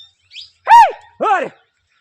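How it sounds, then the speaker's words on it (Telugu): Parrots over a harvested paddy field give three separate chirping calls, the middle one loudest, spaced apart against otherwise silent surroundings. "చిలుకలు అయితే ఫుల్ వస్తున్నాయి"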